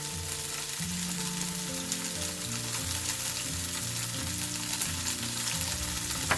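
Broccoli pieces with salt frying and being stirred in a pan for an omelette, a constant close sizzle with scattered crackles and scraping beneath a faint low tonal hum.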